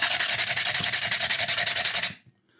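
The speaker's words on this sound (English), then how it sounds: "this is all with one quite harsh sandpaper at the moment" Harsh, coarse sandpaper rubbing back and forth over the edge of a cut glass bottle, a fast, steady rasping rhythm of short strokes, close and loud, stopping abruptly near the end.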